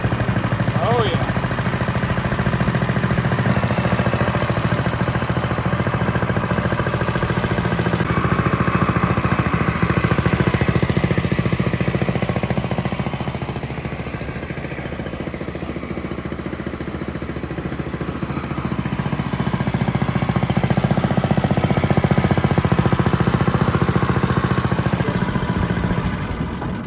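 Predator 212cc small engine on a long-tail mud motor runs at a steady idle just after starting, a continuous mid-pitched chugging clatter that swells and eases slightly, with people talking over it.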